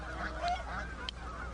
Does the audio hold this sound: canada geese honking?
yes